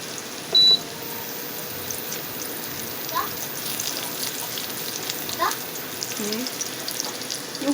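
Meat frying in a home kitchen pan gives a steady, soft sizzle throughout, with faint occasional clinks and a brief high beep near the start; no one speaks.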